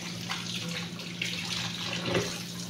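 Tap water runs steadily into a sink while beetroot is rinsed under it, a close continuous splashing with occasional louder gushes and no speech.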